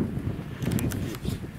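Gusty wind buffets the microphone with a steady low rumble at a wild camp by Sprinkling Tarn, a few brief rustles breaking through on top.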